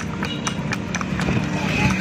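Steady clip-clop of a horse's hooves on pavement as it pulls a kalesa carriage, a regular trotting rhythm close by, with wheels rumbling and voices murmuring underneath.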